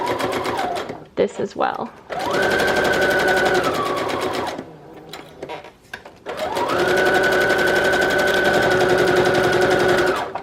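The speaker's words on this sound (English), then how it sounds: "And then I'll sew all the way around" Sewing machine stitching around a half circle on the pages of a Christmas junk journal, running in two long steady bursts with a brief pause and someone speaking in between.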